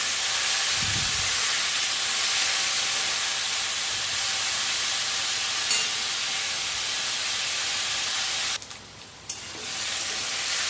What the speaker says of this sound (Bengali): তো আলুটা ভেজে নেব। একটু নাড়াচাড়া করে নিচ্ছি।